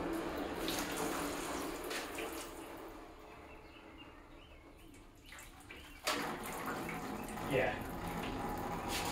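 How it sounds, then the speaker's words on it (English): A mix of oil and coolant drains from a 1999 Ford Mustang Cobra engine during a teardown, pouring in a continuous watery rush with splashes, while someone speaks briefly over it. "that's a mixture of oil and coolant right there"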